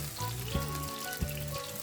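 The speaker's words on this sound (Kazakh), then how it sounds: "Енді қызып тұрған майда баклажанды қызарғанша қуырамыз." Eggplant pieces coated in starch fry in hot oil with a steady, close sizzle throughout. A couple of brief louder pops or clatters break in, and no one speaks.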